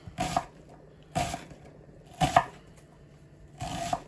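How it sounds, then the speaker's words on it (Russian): Four separate knife chops through an onion on a cutting board, spaced about a second apart, crisp and close, with quiet pauses in between. "Лучок"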